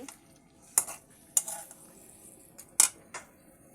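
Rohu fish being stirred in a cooking pan with a metal spatula, several sharp scraping clinks spaced irregularly over a quiet low sizzle.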